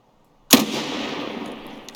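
A single loud, sharp sniper rifle report from the video game Escape From Tarkov cracks out after a brief silence and then trails into a long, rumbling echo that fades slowly.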